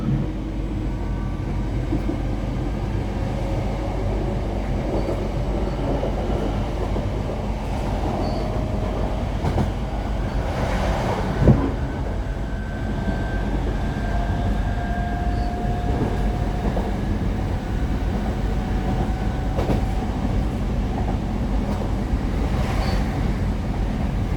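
A Northern Trains class 323 electric train rumbles steadily along the rails with a low drone, rising motor whine and occasional rattles and a sharp clunk midway.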